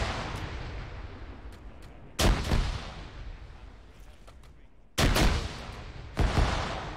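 Close bursts of gunfire in ArmA 3 ring out in three loud volleys, each trailing a reverberant tail, over a low steady background rumble.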